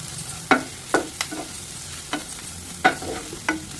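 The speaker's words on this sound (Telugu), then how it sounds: "బాగా వేయించుకోండి." Spices such as salt, chili powder and turmeric sizzle in a hot pan while being stirred for bhel puri, with sharp intermittent scraping strokes of the spoon over a steady low fry, close and without talk.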